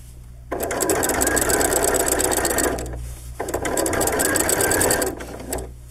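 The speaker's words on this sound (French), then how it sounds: "je vais venir coudre de là à là" A sewing machine runs stitching a hoodie edge, in two sustained bursts of steady rapid needle rattle, each lasting a couple of seconds with a short pause between, close and fairly loud.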